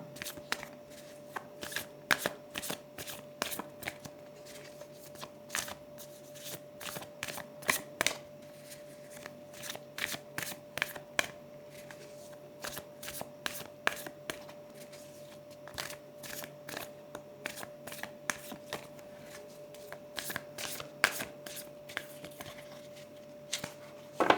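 Tarot cards being shuffled and picked by hand, a long run of quick, crisp riffling snaps and flicks repeating close to the microphone over a faint steady hum, with no talk.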